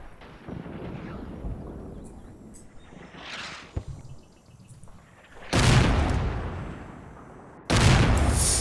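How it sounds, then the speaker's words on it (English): Mortar rounds land in Combat Mission Red Thunder's Seelow Heights battle, two heavy booming impacts with long rumbling tails following a stretch of lighter, distant battle noise. "Very nice mortars."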